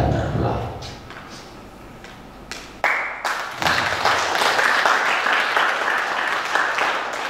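Audience applause at a literary gathering on literature and disability, clapping that starts softly and swells into steady, sustained applause with a few sharp knocks near the start.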